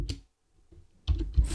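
Short terminal command being typed on a computer keyboard: two quick clusters of soft key clicks separated by a brief pause, close and quiet, with no talking.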